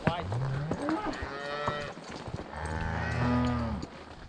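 Cattle moo repeatedly on a steep mountain trail during a herd drive, long drawn-out bellowing calls from nearby animals, one rising moo followed by a lower sustained one, with trail noise between them.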